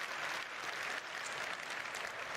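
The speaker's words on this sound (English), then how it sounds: "Why do they cheer there?" A large audience at a Citizen Con watch party claps and cheers in a dense, steady wash of applause that sounds somewhat distant and fairly quiet throughout.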